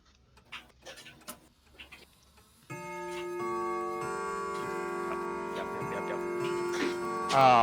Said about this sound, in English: As I hear the chime of the clock